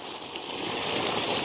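Water flowing steadily from a tube well in Sabah, Malaysia, a continuous broad rushing splash close by with no voices over it.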